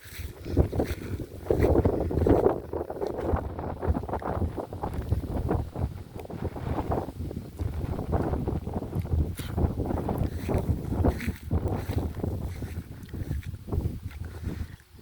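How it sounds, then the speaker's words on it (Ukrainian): Wind blows across an open field of grain, buffeting the microphone in a constant rushing roar outdoors, gusting louder at times with low rumbling. "дивіться, вітер як дує, як волни на морі"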